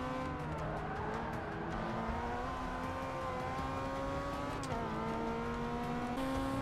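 Race car engines in Forza Motorsport 6 with a Porsche among the pack, a continuous high revving whine that rises and dips through gear changes, steady and fairly quiet throughout.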